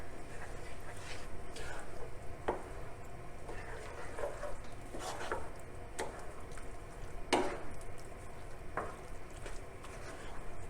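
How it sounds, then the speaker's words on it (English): Lentil sloppy joe sauce being stirred in a pan, with soft scraping strokes and a few sharper spoon knocks over a faint sizzle, quiet and close. "And then we're going to give that a good stir."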